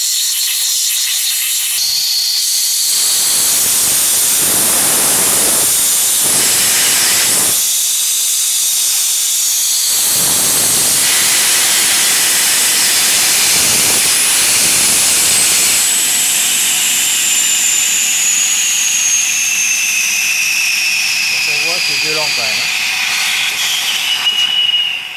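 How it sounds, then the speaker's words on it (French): Hot water from a 2000-litre electric water heater rushing out in a loud, steady hissing roar that fills the whole stretch, with brief surges and shifts in tone as the flow changes. "vous ouvrez les départs d'eau là, d'eau chaude, vous envoyez ça sur le réseau"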